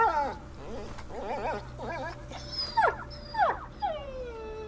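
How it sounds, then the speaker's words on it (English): A dog in the video game A Plague Tale: Innocence whimpers and whines in a series of high, wavering cries that rise into longer yelps near the end, heard over a low steady background hum. "Oh no, the dog!"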